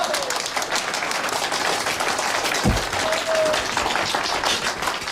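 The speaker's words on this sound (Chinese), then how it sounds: "鼓掌！" A crowd claps in applause at a meeting in a period drama, steady dense clapping throughout, close and fairly loud, with a brief thump partway through.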